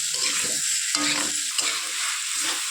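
Marinated chicken pieces for chicken chotpoti poured into a hot pan, giving a steady close sizzle and frying hiss with some stirring noises, no voices.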